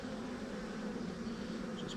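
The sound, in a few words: honeybees buzzing in a beeyard hive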